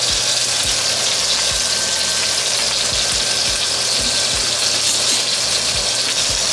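Garlic cloves and sprigs of fresh thyme sizzle in unsalted butter in a pan, producing a loud, continuous hissing fry with faint low bumps underneath and no talking.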